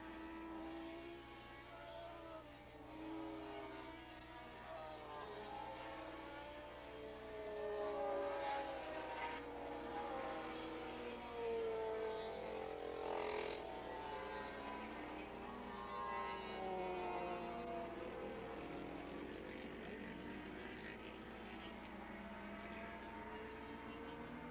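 Racing motorcycles lap the 2.5-mile Willow Springs circuit at a 1986 AFM Open Grand Prix. Their engines rise and fall in pitch as they pass, heard faint and distant over a steady low background.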